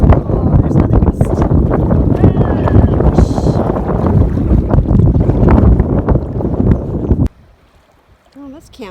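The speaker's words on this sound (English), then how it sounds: "Oh, there's another gust." A strong wind gust sweeps over a lake while paddling solo in Algonquin backcountry on Ragged Lake. It roars loudly into the microphone for about seven seconds, then drops away to near quiet, with a little water sound.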